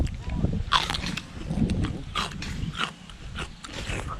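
Someone chews food, giving crunchy, moist bites at close range in a steady, uneven rhythm, with people talking over and around the chewing.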